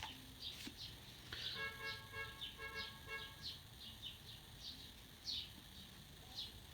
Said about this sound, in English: Maybe you should just go up to their door if you're going to honk the horn repeatedly.